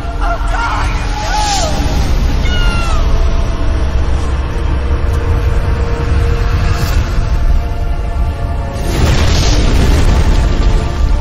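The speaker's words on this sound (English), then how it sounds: "It'll explode unless you pull out the sword!" A deep booming explosion in the Tomb Raider Legend video game, loud and rumbling, with shouting voices and game music carrying over the blast.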